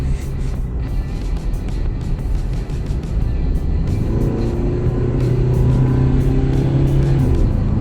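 A 2021 Nissan Navara Pro-4X pickup truck engine rumbles steadily, then climbs in pitch as it accelerates, growing louder and more strained without any talking.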